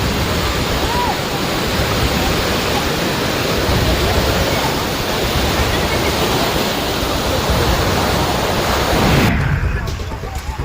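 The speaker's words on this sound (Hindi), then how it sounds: "देहरादून में टपकेश्वर महादेव मंदिर परिसर सैलाब की चपेट में आ गया है।" Rushing floodwater surging through the Tapkeshwar Mahadev temple complex in Dehradun during monsoon flash flooding, a loud, steady broadband roar that fills the scene continuously before abruptly cutting off near the end.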